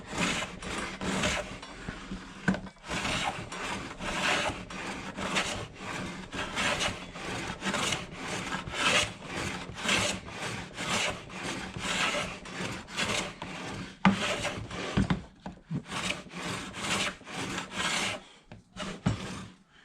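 A Carter No.7 jointer plane takes shavings off a wooden workpiece for a wrist rest, in repeated rasping strokes with short pauses between them, close and clear with no talking.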